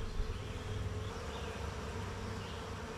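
Many honey bees hum steadily around an open hive during an inspection, a dense, continuous close buzz with wingbeats drifting near and away, no speech.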